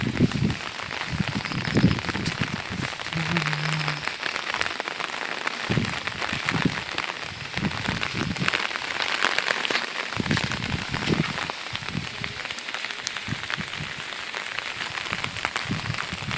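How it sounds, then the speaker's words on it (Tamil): Steady heavy rain pours down, a dense continuous hiss with scattered drops pattering nearby. "மழை பொழிந்து கொண்டு இருக்கிறது நம்ம ஊரில்"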